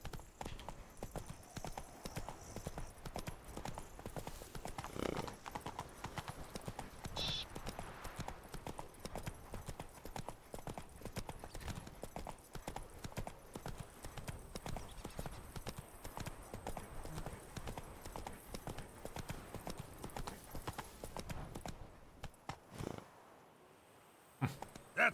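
Roach, the horse in The Witcher 3: Blood & Wine, gallops with a fast, continuous clip-clop of hooves that runs steadily at close range for most of the stretch. It drops away near the end.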